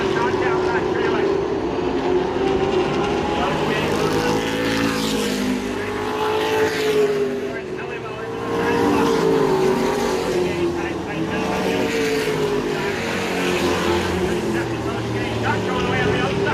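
Race cars roar down the back straightaway of a Maine racing oval, a loud, steady engine drone that swells and fades slightly as the pack passes, with a voice audible over it.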